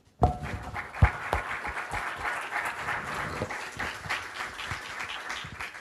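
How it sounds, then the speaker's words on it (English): A workshop audience applauds a speaker on electrical power systems technology, a modest room of clapping that starts abruptly with a few sharp individual claps and then holds at a moderate, steady level. "give another round of applause to Sichi."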